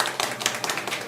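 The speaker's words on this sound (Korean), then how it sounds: "우리 김지현 대표님께 큰 박수 좀 한번 보내주시고요" Audience clapping at a lecture event in thanks to a sponsor, short and scattered with individual claps standing out, fairly close and moderately loud, with no talk.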